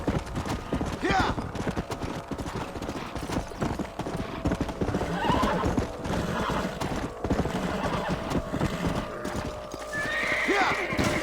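Rapid hoof clip-clops of a galloping horse with whinnies and neighs in the video game Red Dead, mixed with excited shouting voices.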